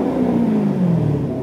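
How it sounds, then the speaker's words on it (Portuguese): A Corvette engine revs in a short, loud, throaty burst, its pitch sliding slowly downward as it winds back. "Eu até entendo que o carro tem um ronquinho."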